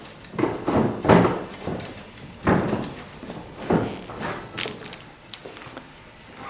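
The side panel of a massage chair slides back along the chair and locks into place. Several separate thuds and scraping knocks land close by over a few seconds, with no talking.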